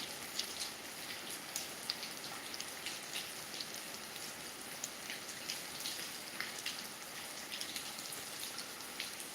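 Steady rain pours down near a house in Maharashtra, a dense, even patter of raindrops on surfaces with scattered sharper drips, constant and close, with no voices.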